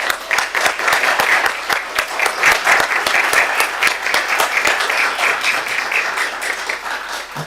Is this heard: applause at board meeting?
yes